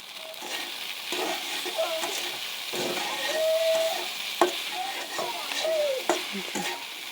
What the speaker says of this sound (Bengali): কিছুক্ষণ নাড়াচাড়া দিয়ে এখন হয়ে আসছে।